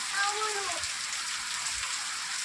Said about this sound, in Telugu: ఫుల్ వర్షం పడుతుంది కదా.